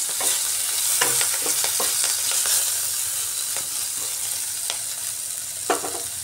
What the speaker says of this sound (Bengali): তেলের মধ্যে ভেজে নিচ্ছি।